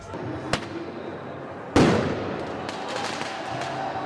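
Flares thrown by protesters at a street protest clashing with riot police produce a sharp loud bang midway, preceded by a smaller pop, with crackling bursts and a steady crowd hubbub continuing afterward.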